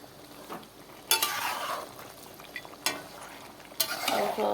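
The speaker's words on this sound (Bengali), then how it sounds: "খাসির মাংস রান্না করছি" Goat meat stirred and fried in a pan, with soft continuous sizzling broken by several loud scraping strokes of a spoon against the pan, close by.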